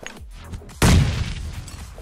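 Gunfire in the mobile battle royale game BGMI/PUBG Mobile, one sharp, loud shot that rings out and decays after a quieter stretch, with faint gameplay noise around it.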